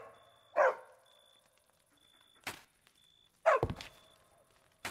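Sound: dog barking in Minecraft video game

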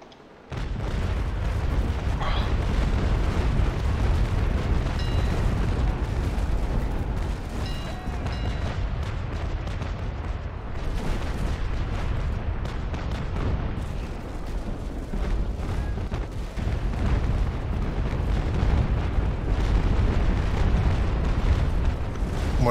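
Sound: mortar strike explosions in Naval Action video game

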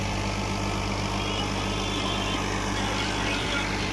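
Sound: NH 55 HP tractor engine working with rotavator

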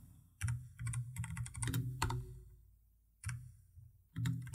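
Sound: typing text on a computer keyboard

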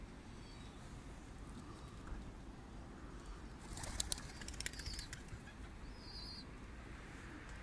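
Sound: Diyarbakir white pigeon flapping wings in flight

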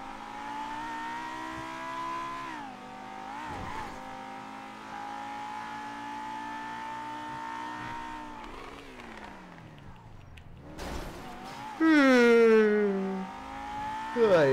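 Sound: car engine revving and tires squealing

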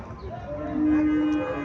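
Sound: Haryana cow mooing

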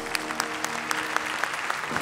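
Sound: audience applause at awards ceremony

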